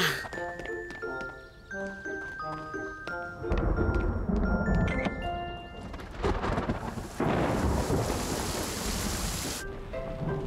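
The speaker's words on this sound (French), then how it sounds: "il pleut vraiment" Rain hisses and patters steadily while thunder rumbles low underneath, with bright tinkling chimes ringing over the start before the downpour thickens.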